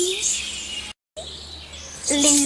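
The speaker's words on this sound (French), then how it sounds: "Dans les arbres, les oiseaux chantent." Birds sing in the trees with repeated bright chirps and calls over soft background hiss, the sound cutting out briefly before a clearer burst of song at the end.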